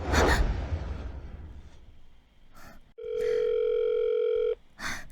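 An unanswered phone call ringing, a single steady electronic ring tone lasting about a second and a half after some rustling, then cut off.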